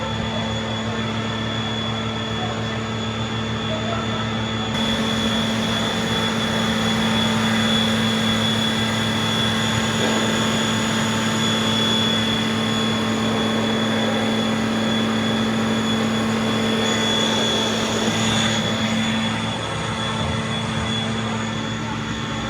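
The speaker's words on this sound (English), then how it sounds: "ready to start the main V12 engine of the tank" Challenger 1 main battle tank's V12 main engine starting and running, a steady loud mechanical drone with a strong hum that swells slightly partway through, with people talking over it.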